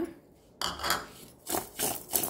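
Chopped bilimbi pieces mixed with salt and sugar in a bowl, giving close scraping and clinking of a utensil against the dish in three short bursts, with no talking.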